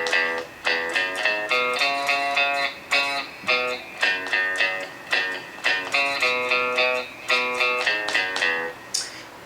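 Guitar picking out the introduction to a song, with quick repeated plucked notes and chords in a steady rhythmic pattern, played close and clear with no talking.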